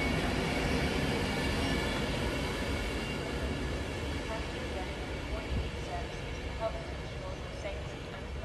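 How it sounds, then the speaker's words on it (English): A train approaches in the distance near Lichfield, a broad rumble with faint wheel squeal building slowly beneath steady outdoor noise. "Right, our train is coming in the distance."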